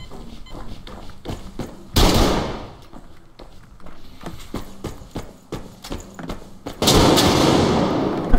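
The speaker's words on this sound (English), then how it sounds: "Shots." Two loud gunshot bursts in the post-apocalyptic shooter Survarium, each a sharp crack followed by a long noisy tail, amid a steady run of lighter footstep-like thuds.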